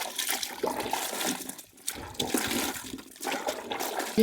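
Water sloshes and pours in uneven bursts as lime-soaked ash gourd pieces for Agra petha are washed in a vessel, close and moderately loud with brief pauses between rinses.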